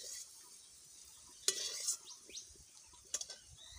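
Paneer fries in a pan with a soft, steady sizzle, broken by a few sharp metallic clinks and stirring scrapes of a utensil, all fairly quiet.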